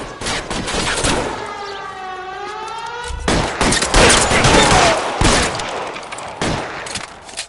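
A wailing police siren in the video game LA Noire gives way to loud, close bursts of gunfire, a dense volley followed by several separate shots.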